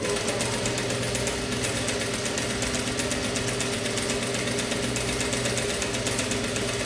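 A sewing machine stitching a sleeve onto a garment runs steadily with a fast, even mechanical chatter and motor hum throughout, fairly close and uninterrupted.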